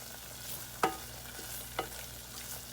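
A flour mixture cooks in a pan for a homemade cream-of soup base while a utensil keeps it moving. A soft, low sizzle runs throughout, broken by two sharp scraping strokes about a second apart.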